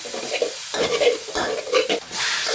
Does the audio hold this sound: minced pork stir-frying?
yes